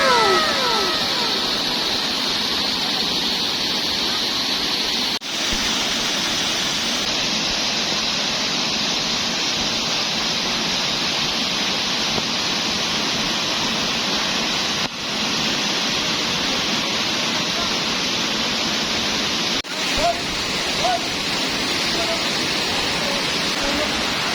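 Ton-ok Falls in Samar, a broad, constant roar of falling water that stays loud and unbroken throughout, with a few brief bumps.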